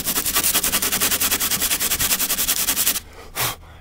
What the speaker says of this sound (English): I'm using 220 grit sandpaper with my hard sanding block because this is a flat surface